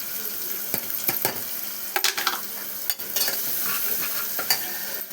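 Tomato with salt, chili, turmeric, coconut and coriander powder frying in a pan for a potato curry, a spoon scraping and stirring in scattered strokes over a steady low sizzle.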